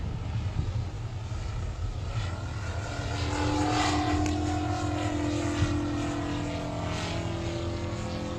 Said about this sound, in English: That's an Evolution 160 petrol engine.